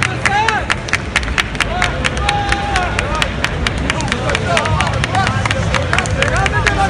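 A crowd at a bodybuilding competition's physique awards applauds with sharp, scattered claps, along with whistles, cheers and a constant babble of voices.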